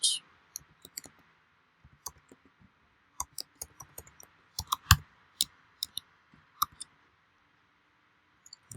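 Sparse clicks of computer keyboard keys come in irregular short bursts as a password is typed, crisp and close in a quiet room, with long pauses between groups.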